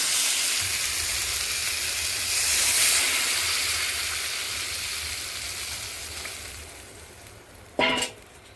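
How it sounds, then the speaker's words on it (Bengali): Water poured into a hot pan of frying potatoes and spices for a fish curry erupts into a loud, steady hiss and sizzle that slowly fades, ending with a sharp clatter near the close. "এবার আমি জল দিয়ে দেবো।"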